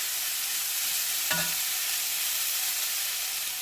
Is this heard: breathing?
no